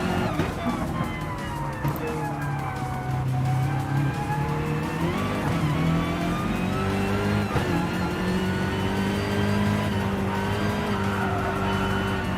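Race cars in a GT racing video game run close together, their engine notes layered and continuous at steady loudness, with shifting pitch sweeps as cars pass and brief tire squeal, no talking.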